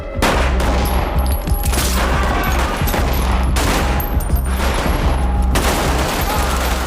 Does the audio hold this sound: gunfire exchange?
yes